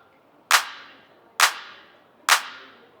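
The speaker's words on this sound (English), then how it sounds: "We have a clap." Three separate electronic clap hits crack out at an even, unhurried pace, each a sharp bright burst with a short reverberant tail, heard alone without any talking.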